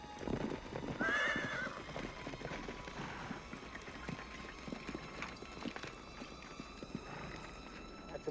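Horse hooves clip-clop steadily, with a brief whinny near the start, moderately close against a quiet background, in a scene from the 1976 western film The Outlaw Josey Wales.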